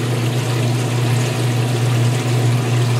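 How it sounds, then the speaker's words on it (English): A Whirlpool washing machine drains, with a steady low pump hum and continuous rushing, trickling water flow running evenly and close by, no voices. "Washer's still emptying, so everything seems normal. It's draining."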